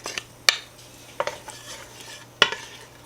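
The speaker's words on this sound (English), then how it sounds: "And stir this up." A spoon stirs chopped onions and minced garlic in a soup pot, with a few sharp metal clanks against the pot over a soft background sizzle.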